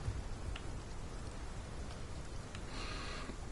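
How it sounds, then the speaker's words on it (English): Heavy rain pours over rocky terrain of cliffs and crags in a dense, constant wash of hiss and patter, steady and enveloping, with no voices. "It's raining hard."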